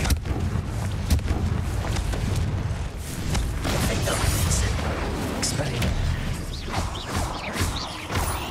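A Confringo spell blast in Hogwarts Legacy, heard in a spider-egg-filled cave as a sustained, loud rumbling explosion with crashing debris that carries on for several seconds, with a voice speaking over it.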